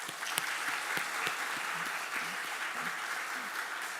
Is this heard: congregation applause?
yes